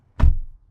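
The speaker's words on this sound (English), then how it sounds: "The door thud is really solid." Car door of a BMW i4 electric sedan shutting with a single deep, solid thud, close and loud, followed by quiet with no talking.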